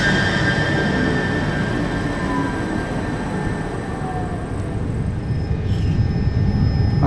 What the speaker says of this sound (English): We're now going on the train back to Fenchurch Street.